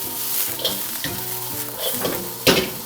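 Chicken with onion and carrot sautés in a little oil over high heat for chop suey, giving a steady close sizzle with occasional louder stirring scrapes.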